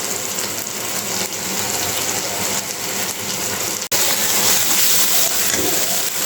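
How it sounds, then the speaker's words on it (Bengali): Water is poured in a steady, continuous gush into a cooking pot of fish curry with cauliflower and potato, filling the clip closely and evenly with one brief break near the end. "অল্প একটু জল দিয়ে দিব।"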